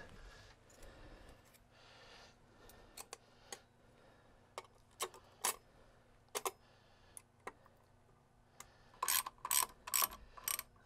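Ratchet tightening the flame arrestor on a GM 5.7L boat engine, with sparse clicks building into quick, sharp ratcheting bursts near the end, close up with no talking.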